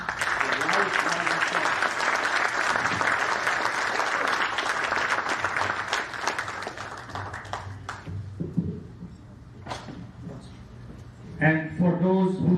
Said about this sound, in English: Please give these 4 gentlemen a loud applause.